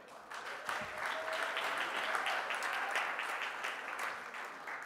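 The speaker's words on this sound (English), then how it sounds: "So I want us to applaud them before Michael takes the stage." An audience at a university forum on fundraising and philanthropy applauds in a steady wash of clapping that swells, holds for several seconds, then begins to thin.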